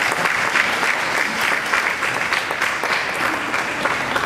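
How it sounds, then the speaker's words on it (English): An audience at a public hearing in Queens Borough Hall claps steadily and densely for several seconds, a full, even round of applause with no voices standing out. "let's give them a big round of applause"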